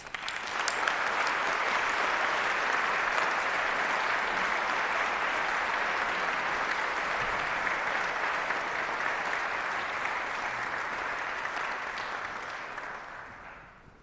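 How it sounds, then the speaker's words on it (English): Long, steady applause from a large audience at a Princeton Martin Luther King Day keynote, a dense even roar of clapping that holds for over ten seconds before tapering off. "please join me in another round of applause"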